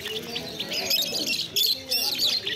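Budgerigars and black Java sparrows chirping at a bird market, a busy chorus of high, close tweets and chatter rising and falling in bursts, with faint background voices.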